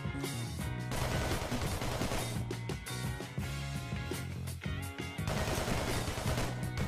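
Rapid, dense gunfire in a Minecraft village fight against mutant zombie mobs, continuous loud bursts layered over game music with only brief gaps.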